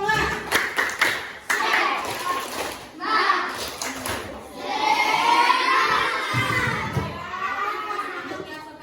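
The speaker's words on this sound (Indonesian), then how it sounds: "Tepuk semangat" Schoolchildren in an Indonesian classroom doing a rhythmic spirit clap, sharp patterned claps mixed with loud chanting and shouting voices, close and busy throughout.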